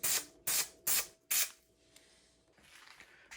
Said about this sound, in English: I'll start spraying it on the carpet as well.